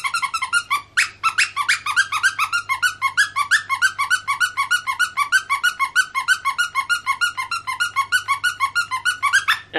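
A dog squeaks a squeaky toy over and over in a quick, steady rhythm. The squeaks are loud and close, with brief gaps between them and no talking.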